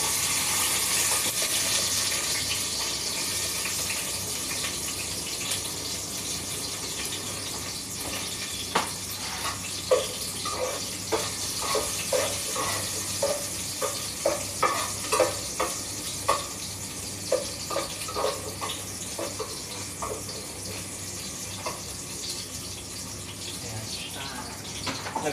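Garlic sizzles as it fries in a pan for adobong sitaw with chicken heart, a steady soft crackle under which a run of sharp stirring clinks and scrapes taps out irregularly through the middle.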